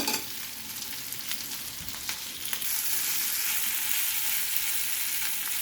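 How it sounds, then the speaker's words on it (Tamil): Potatoes roast in a pan over a low flame, giving a steady, fairly loud broadband sizzle and crackle with scattered sharper pops throughout, the frying noise alone with no voices. "உருளைக்கிழங்கு ரோஸ்ட் ஆகிட்டுருக்கு பாருங்கள்"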